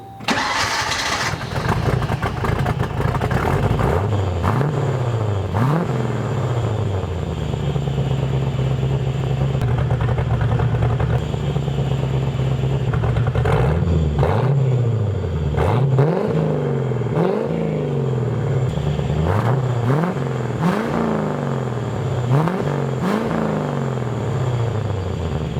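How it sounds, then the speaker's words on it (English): A car engine cranks and starts, then runs through an exhaust fitted with a homemade baffle silencer, a close steady rumble broken by repeated short revs that swell and fade, with no voices. "And this is the exhaust sound in startup with the baffles."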